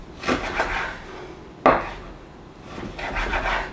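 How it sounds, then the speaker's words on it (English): A chef's knife slicing steak on a cutting board, giving a few separate soft scraping cuts with one sharper knock partway through, close and moderately loud with no talking. "Take my chef's knife here, cut it into slices."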